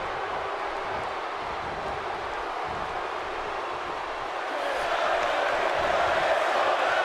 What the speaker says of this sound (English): And the crowd starts chanting, Bray is going to kill you once again.